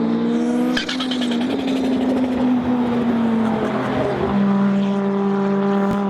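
Audi IMSA GTO race car with a turbocharged inline five-cylinder engine, heard loud and close in a sustained high-revving drone whose pitch shifts through gear changes, alone without talk.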